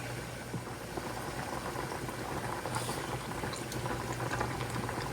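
Pot of pasta noodles at a rolling boil, a dense continuous bubbling close by, with no one talking.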